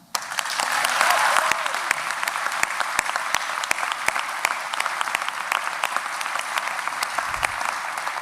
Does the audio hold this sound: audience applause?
yes